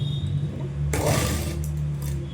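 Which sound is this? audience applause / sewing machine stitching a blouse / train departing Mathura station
sewing machine stitching a blouse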